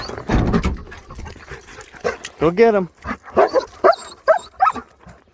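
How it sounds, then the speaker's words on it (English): A dog on a wooded trail gives a whimpering whine and then a few short barks and yelps, close by and mixed in with someone talking. "Where's my Squatch tracking dog?"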